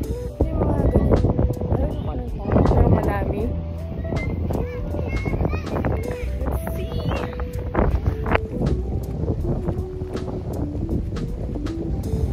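Gusty wind at a beach holiday park campsite buffets the microphone steadily, with voices and other busy outdoor sounds mixed in throughout.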